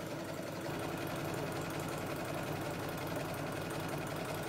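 A sewing machine stitches appliqué with a fast, continuous mechanical whirring and rhythmic needle clatter, steady, close and loud, with no voices.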